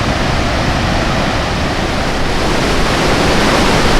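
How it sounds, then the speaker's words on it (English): Sipi Falls on Mt. Elgon, Uganda, roars steadily close to its base, a loud, unbroken rush of falling water filling the whole clip with no voices. "Certainly is even more impressive once we've arrived closer to"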